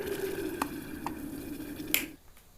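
An electric kettle with water at a full boil, giving a steady sizzling rumble with scattered pops that cuts off abruptly just before the end.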